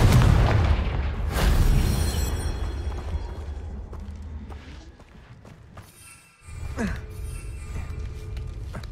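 Booming blasts from the Confringo fire spell in Hogwarts Legacy burst out loud and close, with rolling rumbles and scattered pops that fade, then a sharp new impact after a brief drop in sound.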